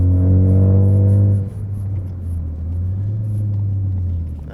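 A 2013-2018 Ford Focus ST with a 3-inch stainless steel track cat-back exhaust gives a loud, deep, boomy drone up close, steady and then settling into a lower rumble.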